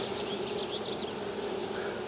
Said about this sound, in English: if you can see bees that are fanning, like over here they're fanning